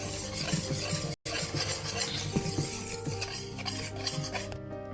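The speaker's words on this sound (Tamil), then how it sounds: "எல்லாத்தையும் சேர்த்து மிக்ஸ் பண்ணி விடணும்." Plain flour, sugar and salt mixed by hand in a bowl for homemade garlic butter naan, heard as steady close stirring and scraping with light clinks, a brief dropout partway through and no talk.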